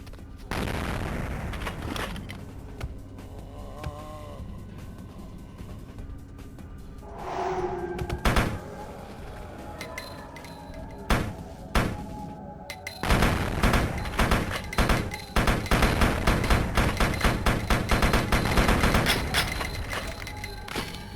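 Repeated .38 revolver gunshots inside Vampire: The Masquerade – Bloodlines, sharp loud cracks that come in scattered bursts and then in a dense rapid volley toward the end, backed by game ambience and music.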